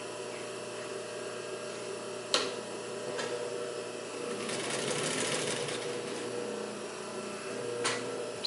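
Pfaff 145-H3 industrial triple-feed sewing machine running at a long stitch length, a steady close mechanical whir with a few sharp clicks and a busier stretch in the middle, over a low electrical hum.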